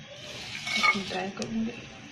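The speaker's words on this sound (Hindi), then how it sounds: "थोड़ा सा तेल डालूंगी, फिर ये ड्राई मसाले डालूंगी अपने" Dry spices go into a little hot oil in a pan while cooking chicken masala, giving soft sizzling and stirring scrapes with light utensil clinks, close and fairly quiet.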